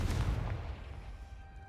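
A Confringo fire spell from a Harry Potter video game lands with a deep booming blast that rolls away into a fading low rumble.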